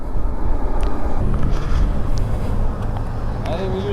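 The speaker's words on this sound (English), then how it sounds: "Sounds like I'm riding a Tron bike." A Harley-Davidson LiveWire electric motorcycle rides along with a steady loud whirring hum mixed with road and wind rush, and a rising whine near the end; a rider's voice is heard over it.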